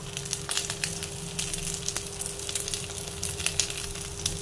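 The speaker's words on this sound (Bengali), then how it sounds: "তেলটা একটু ফাটবে, কারণ বেগুন জিনিসটা তেলে দিলে মার কাছে শুনলাম যে বেগুনটা একটু ফাটে।" Eggplant frying in hot oil sizzles steadily and loudly, with a dense scatter of sharp crackles and pops running through the whole stretch and no voices.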